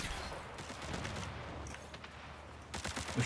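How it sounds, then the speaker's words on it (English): Shadow clones firing weapons in the classic Mac shooter Marathon: dense bursts of rapid gunfire crackling on and off, with a louder volley near the end, with no speech. "shadow clones firing at nothing"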